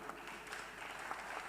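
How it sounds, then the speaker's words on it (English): A live audience claps warmly for panelists stepping down at a Madaraka Day 2025 event in Homa Bay, a steady wash of many hands at moderate distance, continuous for a moment with no voices over it. "can you give them a warm round of applause,"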